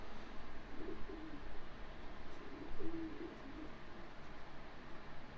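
Racing pigeons in a loft cooing softly, low murmuring calls repeating over a steady background hum.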